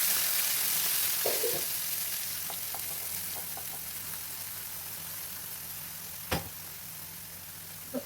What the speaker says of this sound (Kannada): ಇಲ್ಲಿ ರುಬ್ಬಿರುವಂಥ ಪೇಸ್ಟ್ ಇದೆಯಲ್ಲ ಇದನ್ನು ಈ ಥರ ಹಾಕಿ